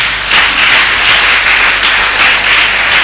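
A church congregation applauds in a dense, steady wash of loud clapping that swells slightly in waves for the whole stretch, with no voices standing out.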